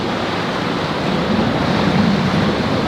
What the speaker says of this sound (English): that water of the Thames lapping against the wall